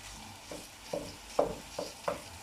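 Minced meat sizzling in a pan with carrot and onion, stirred in several short scraping strokes about every half second over a soft background sizzle, close and moderately quiet.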